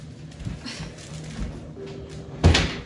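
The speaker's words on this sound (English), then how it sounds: "Don't be slamming shit." A door slams once, a sharp, loud thump near the end, following quieter indoor movement and muffled shuffling.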